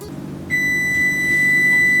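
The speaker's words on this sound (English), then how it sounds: "That's the timer!" A kitchen timer sounds in a home kitchen while homemade pasta dough rests, a sustained electronic beep starting partway in and holding steadily at close range over low background noise.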